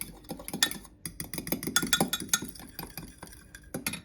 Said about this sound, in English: So just give that a stir.